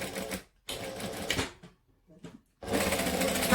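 A sewing machine tacks a bag strap in place while making a bag. It runs in short stitching bursts with brief pauses between them, then finishes with a longer steady run, close and clear.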